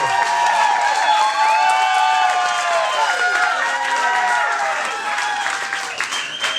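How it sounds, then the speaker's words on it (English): Wedding guests at a reception burst into loud, sustained applause after the best man's toast, with dense clapping and cheers from a close crowd and some voices mixed in. "Big round of applause."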